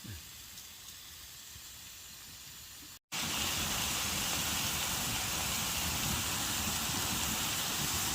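Food sizzling in a pan on a hot tent wood stove during a winter camp cookout, a steady loud broadband hiss that jumps louder after a brief cut, with no talk.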